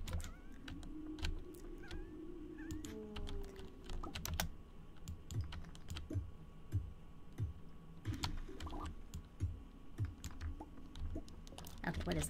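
Computer keyboard typing while playing the farming game Stardew Valley, irregular clicks and key taps running throughout, close and moderately loud, with faint game sounds and a person talking over it at times.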